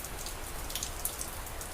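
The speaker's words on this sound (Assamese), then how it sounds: "এইফালে বৰষুণ দি আছে" Rain falls steadily, a dense even hiss of drops spattering on surfaces nearby, with no voices.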